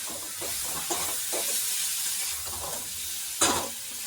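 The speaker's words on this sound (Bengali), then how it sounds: "ডিম, আলু আর মশলাটা খুব ভালো করে এবার মশলার সাথে ফ্রাই করে নেব" Eggs and potatoes fry with spice paste in a pan for an egg curry, giving a steady low hiss and sizzle with soft scraping stirs and one brief louder burst near the end.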